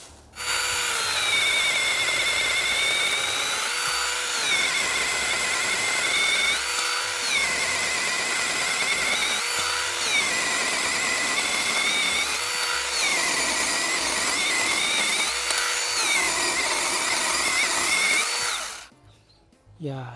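A cordless mini electric chainsaw cuts through thick, hard camellia wood with a loud, steady high-pitched motor whine that dips briefly at regular intervals for nearly twenty seconds before stopping.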